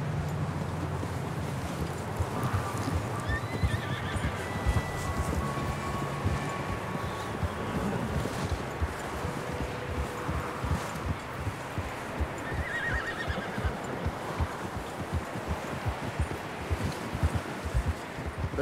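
Horses in the Red Dead Redemption 2 video game, with steady clip-clop of hooves and several neighs and whinnies over a windy outdoor backdrop, continuous and fairly close.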